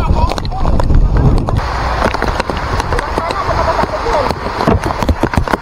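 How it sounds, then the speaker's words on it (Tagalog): Strong wind on a mountain farm buffets the microphone in a steady loud roar, with scattered knocks and rustles through it. "Napakalakas ng hangin. Parang may bagyo."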